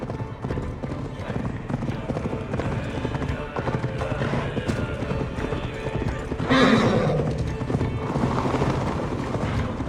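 Horse hooves gallop in rapid, continuous clip-clop rhythm in Assassin's Creed Valhalla, with a loud neigh or whinny midway, under game music and spoken dialogue.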